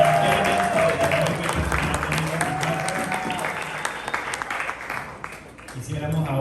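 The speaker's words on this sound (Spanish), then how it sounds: "Un muy fuerte aplauso." An audience at a tournament final and award ceremony applauds, a broad sustained clatter of many hands under a sounding tone and some voices, tapering off toward the end.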